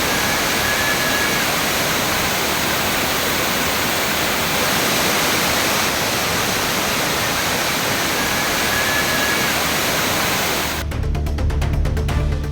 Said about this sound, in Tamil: குற்றால மெயின் அருவி, சிற்றருவி, ஐந்தருவி உள்ளிட்ட அனைத்து அருவிகளிலும் வெள்ளப்பெருக்கு ஏற்பட்டது